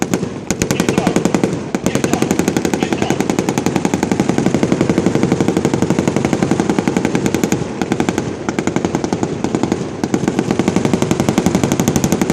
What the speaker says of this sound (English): shortly you will see Mayor Bob Buckhorn getting his gun on